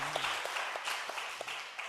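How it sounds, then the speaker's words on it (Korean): A church congregation bursts into applause at a Korean Sunday afternoon worship service, a dense, steady wash of clapping that carries through the whole stretch, with a brief voice heard at the start. "우리 하나님께 영광의 박수 한번 올려주세요."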